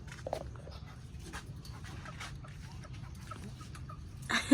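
A bantam chicken clucks a few times inside its new coop, faint and somewhat distant over a steady low background, with a brief louder clatter at the end.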